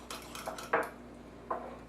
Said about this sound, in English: I use a fork. We're going to mix it up.